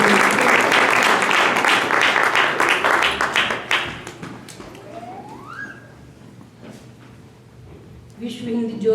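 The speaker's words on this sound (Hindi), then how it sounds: "फिर से एक बार जोरदार तालियां" Loud applause from an audience at an annual Hindi community function, sustained dense clapping that fades after a few seconds, then a brief renewed burst near the end.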